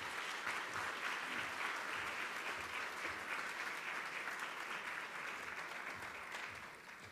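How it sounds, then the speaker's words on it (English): Audience at a 2015 summit gives a warm round of applause for a congressman, steady dense clapping filling the room for about seven seconds before tapering slightly at the end. "Please give me a warm round of applause to Chairman G.K. Butterfield."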